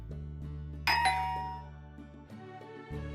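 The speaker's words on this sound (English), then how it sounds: "The doorbell rang when I answered, there was Kaori-san." A doorbell chimes a clear ding-dong over a low steady hum indoors, ringing once and then fading out.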